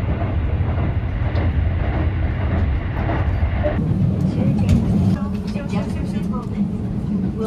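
Continuous rumble of a train in motion with rhythmic rail clatter, steady and close, shifting in tone partway through; no clear speech.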